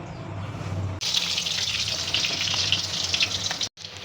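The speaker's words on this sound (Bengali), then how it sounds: "আলুগুলো আমার ভাজা হয়ে গেছে" Potato pieces fry in hot oil at the start of a mutton curry, giving a steady, close, hissing sizzle that drops out briefly near the end.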